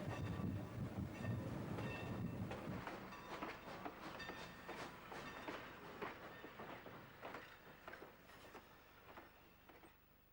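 A train rolls past on the rails near Maydale, between Rusk and Palestine. It is loud and close at first, then settles into a steady clickety-clack of wheels over rail joints that slowly fades, with no voices.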